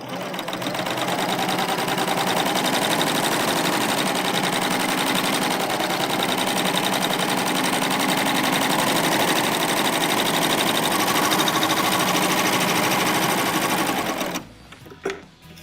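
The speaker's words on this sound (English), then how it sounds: "the Baby Lock Euphoria handles decorative thread very well" A Baby Lock Euphoria cover stitch machine sews decorative thread in a steady, continuous whir that holds close and loud for about fourteen seconds, then stops abruptly.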